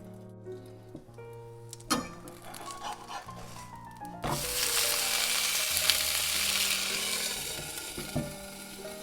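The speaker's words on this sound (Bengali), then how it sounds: "খুব লো আছে ধৈর্য ধরে গোজলামিটা ভেজে নিতে হবে।" A pan of food frying on a low flame, with soft clinks and scrapes at first, then a steady, moderate sizzle that fills the rest, close by and without any speech.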